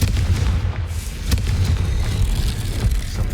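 A Confringo blasting spell fires in Hogwarts Legacy, a dense booming burst with sharp crackling transients riding over a steady low rumble, continuing loud for several seconds with no voices.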